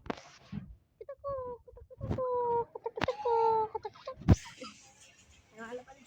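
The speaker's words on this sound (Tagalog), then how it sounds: "Yung manok ni Lolo, boy." A backyard chicken belonging to a grandfather, kept alongside pet pigeons, clucks in short harmonic bursts and repeated calls, close to the mic, with sharp knocks and a person talking in between.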